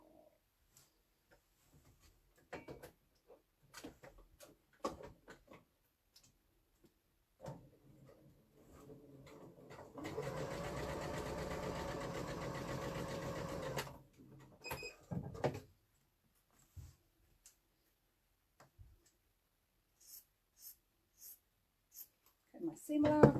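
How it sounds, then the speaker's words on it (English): A sewing machine stitches straight across the corner of temperature-quilt fabric pieces, a steady buzzing run of about four seconds in the middle, framed by quiet handling clicks and rustles. "then you're going to sew directly across."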